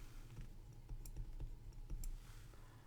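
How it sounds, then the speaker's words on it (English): Rapid light clicking of keys on a calculator or keyboard while entering values for a differential equations problem, about a dozen quick, uneven taps close by with no talk. "If not, then we have to actually type all of that out"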